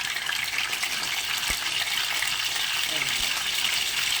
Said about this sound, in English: take our chicken from our marinade, kind of give it a shake to shake off the excess marinade, and start skin side down, nice and hot